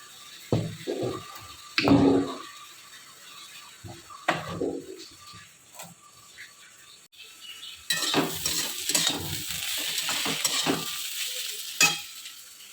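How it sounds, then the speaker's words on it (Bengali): Roti frying on a pan, heard as scattered knocks and scrapes of handling, then a steady hiss of sizzling in the second half with a few sharp clatters, fairly close. "এই রুটি ভাজছি"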